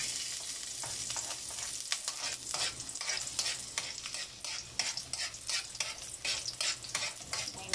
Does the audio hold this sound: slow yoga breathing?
no